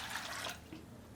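Water is poured onto washed chana dal in a pot, a faint, brief splashing pour lasting about half a second and then fading into quiet.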